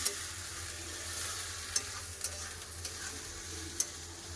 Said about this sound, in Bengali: এবার সব ভালো করে কষে নেবো